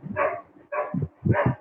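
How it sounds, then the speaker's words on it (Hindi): A dog barking nearby in three close, separate barks, picked up through an open microphone during an online devotional gathering. "कुत्ता भौंक रहा है"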